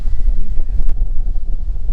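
Strong wind buffets the microphone with a steady low roar and gusty rumble, no other sounds standing out.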